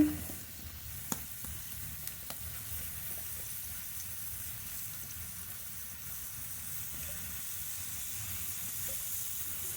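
Chicken being braised with cut potatoes and chopped tomato in a pan sizzles steadily, a soft continuous frying hiss with a few faint clinks of stirring near the start, no talking.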